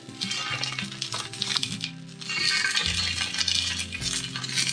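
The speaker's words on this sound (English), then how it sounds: "So I'm popping my sausages in. You can hear the sizzle there." Sausages sizzle in a hot pan, a steady bright crackle with clinks of utensils and a low tonal hum or music underneath.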